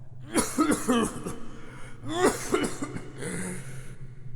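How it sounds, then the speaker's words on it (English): A person coughs in two harsh bursts of several coughs each, close and loud, followed by a raspy breath. "How long have you had that cough?"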